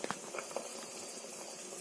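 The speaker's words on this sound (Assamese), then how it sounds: "এনেদৰে অলপ উতলিবলৈ দিছোঁ" Vegetable soup boils in a pressure cooker with a steady bubbling hiss and a few brief pops near the start, fairly quiet and continuous with no talk.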